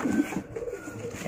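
A single short pigeon coo sounds close by, a soft low throaty call lasting about a second.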